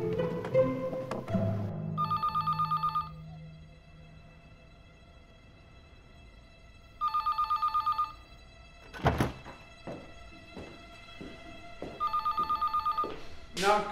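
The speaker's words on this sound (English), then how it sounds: "answering the phone. We grasp, we lift, we extend." A telephone rings in short double-bell bursts repeated three times with long quiet gaps between them, and a loud thunk falls between the second and third rings.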